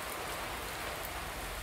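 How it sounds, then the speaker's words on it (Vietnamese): Rain pouring down steadily outside during a stream fishing trip, a dense, even hiss of falling water with no breaks and no voices. "Trời vẫn cứ đổ mưa"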